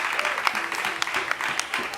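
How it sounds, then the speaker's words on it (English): An audience at a theater arts celebration of the African child claps in a brief, dense burst of applause lasting about two seconds, steady and close. "Round of applause!"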